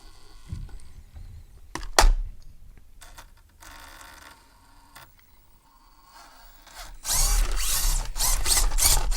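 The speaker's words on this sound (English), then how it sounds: "It's a nice little motor." A small Furitek brushless motor in a Katana FX118 RC crawler whirs in short bursts with clicks and pauses, then spins up to a louder, sustained high-pitched whine for the last couple of seconds.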